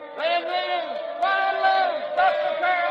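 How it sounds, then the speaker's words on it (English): A crowd of voices yells in the street, staged as a radio drama effect, with sustained shouting that swells in waves across the clip and is loud and fairly close. "The crowd. They're yelling something."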